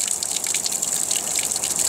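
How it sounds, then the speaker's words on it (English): Water trickles and gushes steadily from a crack in the rock of a cave-like formation in otherwise dry surroundings, a close, continuous bright splashing hiss with no voices. "water is seeping out of this crack in the rock"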